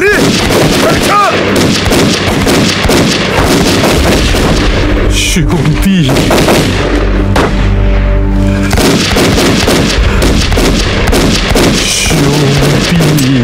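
Gunfire in a Chinese anti-Japanese war kung fu movie, loud repeated booming shots and bursts under shouting voices, with a brief spoken line among the blasts.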